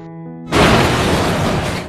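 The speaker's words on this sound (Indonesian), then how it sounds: "terjadi ledakan" A sudden loud explosive boom of an apartment explosion bursts in after a quiet tonal passage, followed by a sustained roaring rumble that slowly fades.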